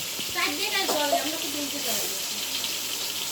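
Biogas-fuelled stoves burn at a home in Bhandaria while food cooks, giving a steady, close, airy hiss of flame with a faint sizzle, and someone talks over it.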